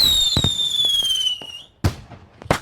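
Firecrackers and fireworks bursting, with a sharp rising whistle followed by several loud cracking pops in uneven succession, close and punchy, standing on their own.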